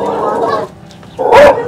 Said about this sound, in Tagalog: May aso nga.